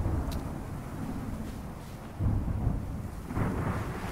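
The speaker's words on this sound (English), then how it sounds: "And also where a storm approaches." Thunderstorm rolling in during a wilderness survival video game, a steady low rumble of thunder and rain with two heavier swells partway through, fairly loud and continuous with no talking.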